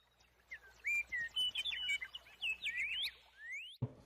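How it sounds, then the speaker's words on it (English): A nightingale sings outdoors in a rapid series of clear whistled trills and chirping phrases, fairly close and lively, ending with a brief low thump. "at this moment he hears the call of a nightingale"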